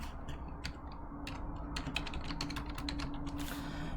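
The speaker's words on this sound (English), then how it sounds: "Let's go into Desmos and let's type this function." Typing on a computer keyboard while entering a calculus function, a quick irregular stream of crisp, close clicks and taps over a faint low hum.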